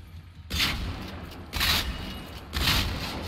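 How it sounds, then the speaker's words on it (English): Three loud shotgun blasts loaded with buckshot in the video game Generation Zero, spaced about a second apart, each a sharp boom with a lingering rumbling tail. "If you've got a shotgun as well, shotguns work really nicely against these guys."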